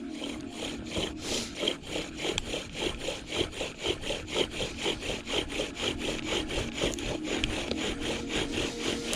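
Wooden spindle drilled into a wooden board to make fire: a steady, rhythmic back-and-forth scraping friction, close and moderately quiet, repeating evenly at about two strokes per second with no speech.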